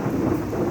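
A low rumble of thunder rolls through a severe thunderstorm, broad and steady, with rain hissing faintly beneath it.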